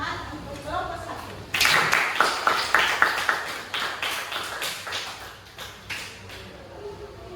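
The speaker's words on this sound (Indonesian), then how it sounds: "Jadi beri tepuk tangan untuk kelompok 1." A classroom of students applauding for the first presentation group, a burst of dense clapping that starts abruptly and fades gradually over several seconds, with scattered individual claps trailing off near the end.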